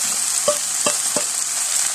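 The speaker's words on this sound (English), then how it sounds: "now it's time to put the potatoes in. Just put them in" Sweet potatoes fry in a hot pan seasoned with garlic salt and black pepper, a continuous loud sizzle broken by three or four sharp clatters as the pieces are dropped in and stirred.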